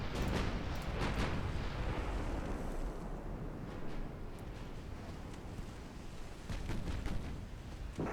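Naval gunfire strikes a ship in the War of the Trident naval game, with heavy booming impacts and rumbling blasts that rise near the start and again toward the end over a steady roar of wind and water.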